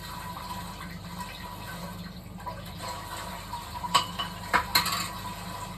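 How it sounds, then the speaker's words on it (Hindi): Dishes and utensils are washed under running water at home, a steady low rush of the tap with a few light clinks and knocks of crockery near the end. "ये आने के बाद भी मुझे बर्तन धोने पड़ रहे हैं"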